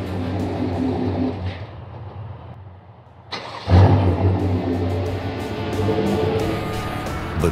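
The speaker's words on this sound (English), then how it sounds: "Without Carbyte, you can feel the engine shudder and shut off." A car engine with an auto start-stop system idles with a steady low rumble, drops away to a quieter lull, then surges back louder and rougher partway through before settling into a continuous running drone.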